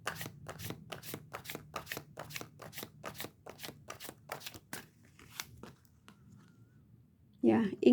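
Tarot cards are shuffled close up in a quick, even series of crisp riffling flicks that slow and fade, followed by a brief burst of speech at the end.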